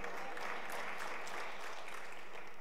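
Audience applause at a cybersecurity opening ceremony, a dense, even wash of clapping heard at a moderate distance for a couple of seconds with no talking.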